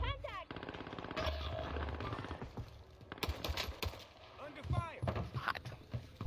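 Rapid automatic gunfire in an online shooter video game crackles in loud, sustained bursts, with voices talking over the shooting throughout.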